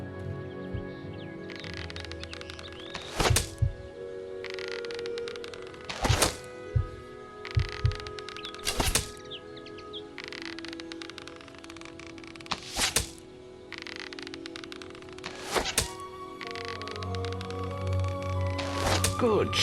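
Arrows loosed from a bow in Fable Anniversary, several sharp twangs and thunks spaced a few seconds apart, over a quiet game backdrop with brief speech between shots.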